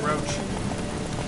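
A horse gallops in a race in the video game The Witcher 3, quick rhythmic hoofbeats under game audio and a speaking voice.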